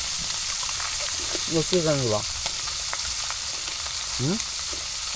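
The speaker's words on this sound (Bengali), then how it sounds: "এই যে মাছগুলা কিন্তু দেওয়া হচ্ছে এবং কি আমরা ভেজে নিচ্ছি" Fish hisses as it fries in hot oil in a pan over a clay stove in a village kitchen, a steady broadband sizzle running the whole time, with a few short voiced sounds breaking in over it.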